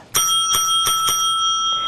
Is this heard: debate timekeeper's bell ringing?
yes